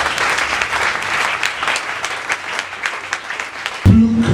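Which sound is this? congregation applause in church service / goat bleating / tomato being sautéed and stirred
congregation applause in church service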